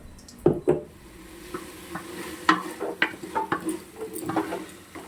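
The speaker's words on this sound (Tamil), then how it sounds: "கத்திரிக்காய் நல்லா வதங்கிடுச்சு. இன்னும் கொஞ்சம் நேரம் வதங்கட்டும்." Eggplant sautéing in a pan with a steady low sizzle, broken by a series of sharp spoon scrapes and knocks against the metal, close by with no talking.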